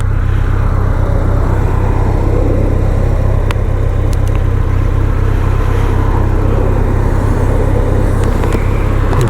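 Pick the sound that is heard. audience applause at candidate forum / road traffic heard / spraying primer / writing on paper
road traffic heard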